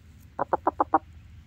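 A chicken-like bird clucks five times in quick, even succession, close and clear against a quiet outdoor background, with no talking.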